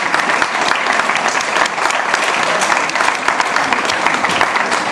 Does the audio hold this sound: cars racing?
no